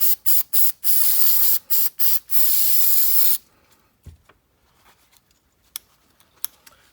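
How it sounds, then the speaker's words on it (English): Brake cleaner sprays from an aerosol can onto a part from a Honda Accord ignition switch: several short sharp hissing bursts followed by one longer blast, then quiet faint clicks and handling noises. "Let me get some brake clean to spray that off"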